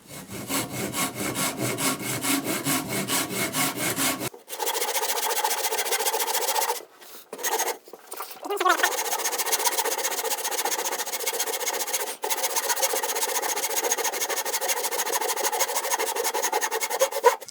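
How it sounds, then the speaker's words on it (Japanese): A Japanese hand saw cuts wood to form a tenon, a close, loud rasping with a fast, even back-and-forth stroke rhythm that runs almost continuously, broken by a couple of brief pauses. "今度これに合わせて切っていくという感じになります。"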